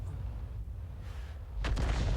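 A single heavy artillery shot from an M44 self-propelled gun in World of Tanks bursts in near the end, a loud booming blast with a rumbling tail over a steady low background hum.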